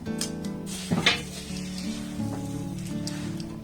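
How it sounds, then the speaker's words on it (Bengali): Roasted sesame seeds and peanuts being stirred into melted jaggery in a pan with the flame off for sesame-peanut chikki, giving a soft steady sizzle with a brief burst of spoon scraping near the middle. "এবার সমস্ত উপকরণ খুব ভালোভাবে এইভাবে নাড়াচাড়া করে একদম মাখো মাখো করে নিতে হবে"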